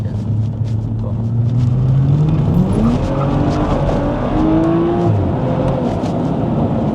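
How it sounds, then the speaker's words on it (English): A BMW M135i accelerates hard out of a corner in second gear with traction control off. The loud, close engine climbs in pitch under squealing tires. "put it in second for the corner. And then just try to accelerate out of it."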